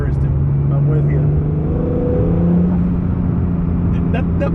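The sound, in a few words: Acura NSX turbo engine with blow-off valve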